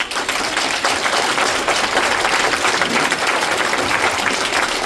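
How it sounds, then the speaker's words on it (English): Audience in a meeting hall at a sports complex applauding, dense steady clapping that continues throughout at a fairly moderate level, with no speech over it. "please demonstrate by applauding"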